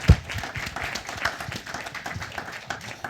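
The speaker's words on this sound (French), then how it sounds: "On peut quand même les applaudir." A modest audience at a French talk on refugee employment gives light, scattered applause, soft overlapping claps after one sharp tap at the start.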